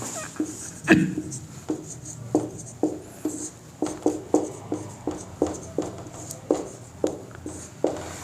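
Pen or pencil strokes on paper while an answer is written out, a steady series of short scratchy marks spaced about half a second apart, close and fairly quiet, with faint speech in the background.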